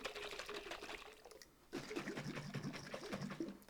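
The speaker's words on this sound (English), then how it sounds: "I'm using a jar, so I'm just going to put the top on and give it a good shake." A closed jar of salad dressing is shaken vigorously, with liquid sloshing in rhythmic bursts. Rapid rattling comes in two spells separated by a brief pause, close and fairly quiet.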